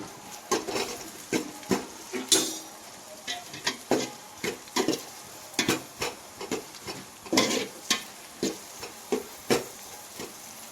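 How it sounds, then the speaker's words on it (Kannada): Onion base frying in a pan for chicken curry, heard as a string of distinct scraping and stirring strokes with a soft sizzle underneath, fairly quiet and close, in an irregular rhythm, with no talking. "ಉಳ್ಳಾಗಡ್ಡೆ ಬೇಸ್ ಅವರಿಗೆ ಫ್ರೈ ಮಾಡ್ಕೋಬೇಕು"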